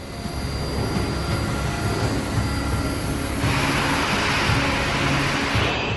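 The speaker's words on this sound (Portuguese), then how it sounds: "pista 21, esquerda, liberada para decolagem." A West Caribbean jet airliner on its takeoff run from runway 21 left gives a loud, steady engine roar that swells and brightens partway through, heard alone without talk.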